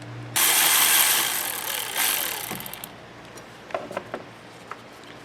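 A power ratchet or impact tool spins out the 10mm bolts holding the AC condenser fans on a Chevrolet Impala, a loud whirring run of about two seconds that fades, followed by a few light metallic clicks and taps.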